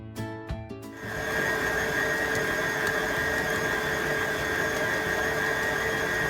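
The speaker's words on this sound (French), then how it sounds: "on va relancer le robot" A food processor starts up and kneads dough, a steady loud motor whine with a sustained high tone that runs unbroken after a brief rattly start.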